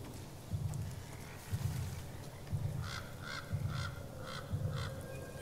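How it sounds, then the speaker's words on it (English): A crow in The Last of Us Part 2 gives five evenly spaced, harsh caws, each about a second apart, over a steady game background with low rhythmic thuds. "A passing crow decided to laugh at their efforts to locate me."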